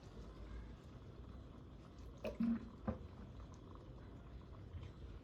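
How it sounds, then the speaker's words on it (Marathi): A small splash of water poured into a bowl of beaten eggs: a short, soft liquid gurgle and a couple of drips over quiet kitchen background. "त्यामध्ये थोडं पाणी टाकूया."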